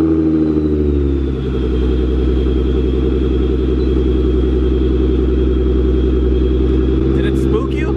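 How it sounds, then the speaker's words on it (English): A car engine idles loudly after a cold start, with a steady deep rumble and a brief rise in revs near the start. The setting is a V6 that may be supercharged, and the engine runs continuously throughout with little change. "here, record the cold start."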